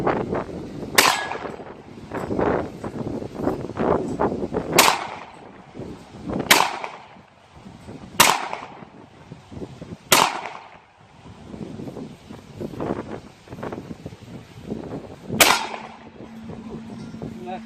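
A Ruger SR1911 .45 ACP pistol fires several sharp, loud shots spaced a second or two apart at an outdoor range, each a hard crack with a thumping tail, while people talk between shots.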